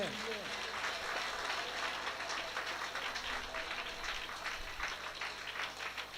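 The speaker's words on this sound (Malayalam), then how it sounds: "കൈയടിച്ചു സൂചിച്ചേ" Worshippers at a Malayalam Catholic prayer service clap along together, a continuous crackle of many hands heard at a distance, fairly faint and slightly muffled, with a low rumble underneath.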